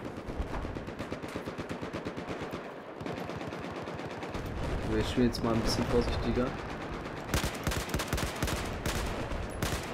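Rapid automatic gunfire and bursts of shots from Battlefield 4 multiplayer play continuously throughout, loud and dense, with someone talking over the shooting.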